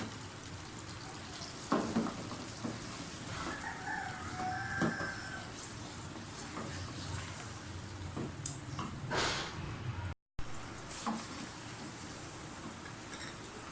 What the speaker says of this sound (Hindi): लहसुन अदरक के पेस्ट में अच्छी तरह से कलेजी को भूनें।